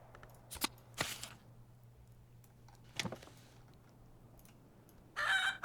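A video-game chicken clucks in a few short, sharp bursts separated by pauses, ending with a louder, drawn-out squawk.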